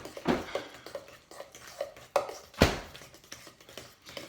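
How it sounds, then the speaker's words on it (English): A fork stirring milk into a baking mixture in a bowl, giving a run of irregular light clinks and scrapes with a few sharper taps, close by with no talking. "then it says to stir it around, so you can use the fork to do that"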